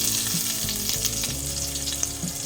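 Garlic and ginger sauté in a pan for squid adobo, with a bright, constant sizzle and several scraping stirs over a low background hum.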